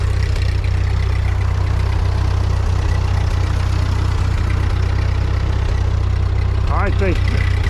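An old Ford 9N or 2N tractor engine runs steadily while plowing with a V-plow, a loud, close, low-pitched drone that holds throughout, with a few faint chirpy sounds near the end.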